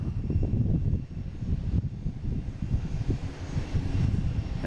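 A Delta jet airliner on runway 4 right, bound for Rome, gives off a low, rumbling engine drone with some fluttering texture, moderately distant and continuous, with no talk.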